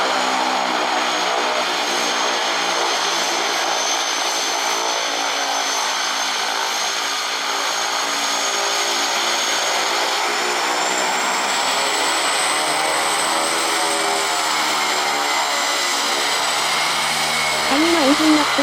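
A twin-engine propeller airplane, a DHC-6, taxiing to depart Lukla airport, giving a loud, steady drone with a high whining tone that slowly shifts pitch, continuous throughout and close by.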